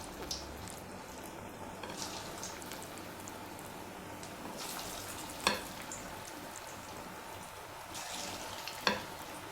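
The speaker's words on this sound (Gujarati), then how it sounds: "હવે આપણે ભજીયાને તળી લઈશું" Bottle gourd bhajiya fry in hot oil over a low flame. A soft, steady sizzle runs throughout, with two brief louder crackles. No one speaks.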